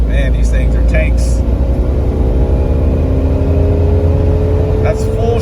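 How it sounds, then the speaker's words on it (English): A 1998 Jeep Cherokee under hard acceleration, its engine holding a steady mid-pitched drone with rising whine throughout, heard from inside the cabin with brief voices near the start and end. "We're gonna go ahead and do a hard acceleration."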